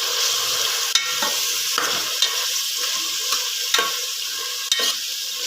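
Carrots, potatoes, soaked peas and chillies are stirred in a hot pan for soya chunks biryani, a constant loud sizzle punctuated every second or so by sharp scrapes and knocks of the spoon against the pan.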